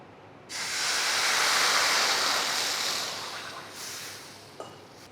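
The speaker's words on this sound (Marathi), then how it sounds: "यामध्ये आपण घालू पाणी" Water poured into a hot pot just after mustard seeds have spluttered, in oil-free home cooking, gives a loud, steady hissing rush for about three seconds that fades out, with a small clink near the end.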